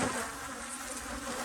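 Honey bees buzz steadily at an open hive while a beekeeper works the boxes, a dense, even drone of many wings, close and continuous with no talking.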